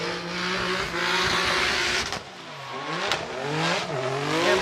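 Tetsuya Hibino's drift car at a Formula Drift Japan event slides sideways with a loud, continuous engine roar that rises and falls through revs, broad tire squeal and hiss layered over it, with sharp shifts or bumps near the middle.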